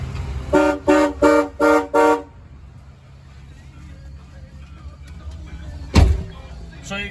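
A 1990 Cadillac Brougham's horn sounds four short, loud, evenly spaced honks up close, followed by quiet interior hum and a single thud near the end.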